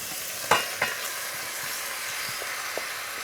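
Potatoes, bacon lardons and onion sizzle in a sauté pan, a steady soft hiss broken by a couple of sharp clinks and scrapes of stirring early on.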